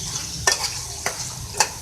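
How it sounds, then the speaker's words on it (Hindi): A spatula stirring beef keema with ground coriander and cumin in a hot karahi, with a soft steady sizzle and three sharp scraping clinks against the metal pan. "इसके बाद हम इसको मिक्स कर लेंगे"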